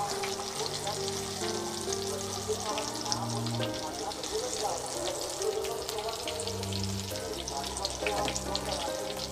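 Tomato chops frying in oil in a wok, with batter partly sticking to the bottom of the pan; a continuous close sizzle and bubbling, with low tonal background sounds running throughout.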